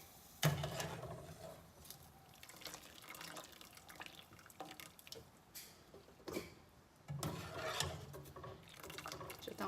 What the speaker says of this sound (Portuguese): A gente tira, coloca nessa peneira aqui e deixa ela escorrendo